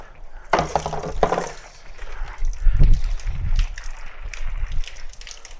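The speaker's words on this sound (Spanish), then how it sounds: "Ah, está entrando el agua al cilindro." Tap water gushes into the cylinder of a rustic homemade manual vacuum pump, a close, splashing rush with clinking knocks and a burst of louder turbulence midway.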